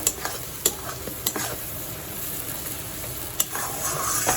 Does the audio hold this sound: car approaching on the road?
no